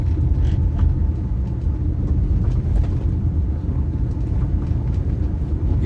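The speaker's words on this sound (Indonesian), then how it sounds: "knalpotnya custom aja. Ini suaranya halus." Steady low engine rumble from a Nissan Grand Livina fitted with a custom exhaust, smooth and even at idle, close and continuous with no talk.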